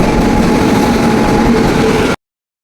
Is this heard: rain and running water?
no